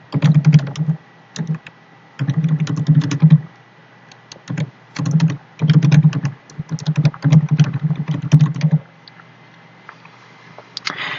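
Rapid bursts of typing on a computer keyboard, clustered key clacks in uneven runs separated by short pauses, close and clear with no talking.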